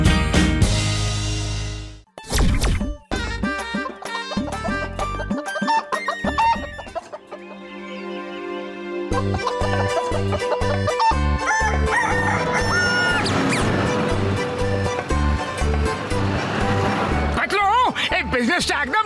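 Cartoon poultry farm uproar with hens clucking and a rooster crowing amid busy music and sound effects, voices talking over the loud, dense mix throughout.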